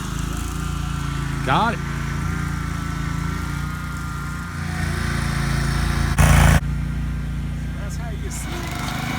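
A lawn seeding machine runs with a steady, loud mid-pitched engine drone throughout, outdoors during fall seeding, with a person speaking briefly over it and a short burst of noise near the end.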